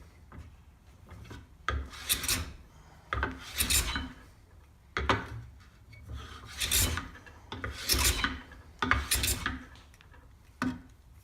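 Scraper made from an old Stanley hand plane taking fine wood shavings, heard as close, intermittent rasping strokes of a second or so each, alone.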